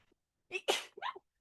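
A single close, sharp sneeze bursts out of silence, with a quick intake of breath before it and a short voiced tail after.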